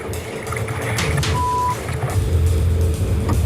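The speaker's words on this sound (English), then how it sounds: "puts the ski in reverse to try and blow the rope back out" A jet ski engine runs in reverse with a rope caught in its jet intake, a steady loud rumbling drone under wind and surf noise, with a brief beep in the middle.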